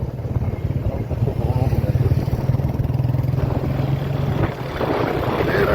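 A heavily loaded motor rickshaw loader's engine chugs loudly and steadily close by, a rough throbbing idle that briefly dips before resuming, with someone talking over it.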